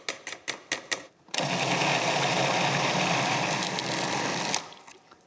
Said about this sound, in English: I strain off the stock and puree the vegetables.